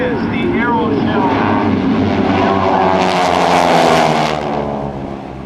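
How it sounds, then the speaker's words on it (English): Aeroshell aerobatic team propeller airplanes performing at an airshow, a loud continuous engine drone that swells toward the middle as the planes pass, with an announcer talking over it. "all four airplanes pick a different spot"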